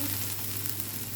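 Ham fried rice sizzles steadily in hot oil in a pan as it is stirred, a constant close hiss with no pauses.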